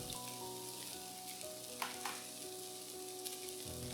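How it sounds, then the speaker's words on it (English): Dried shrimp and cabbage stir-frying in a pan, with a steady sizzle and occasional scrapes and clinks of a utensil against the pan, heard up close with no voices. "Next, add in the shrimps"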